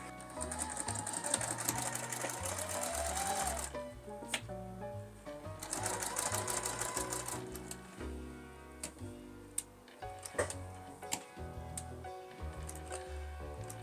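A sewing machine stitches a quarter-inch seam on a fabric book sleeve backed with interfacing, running in steady bursts with pauses and small clicks between, close and alone without talk.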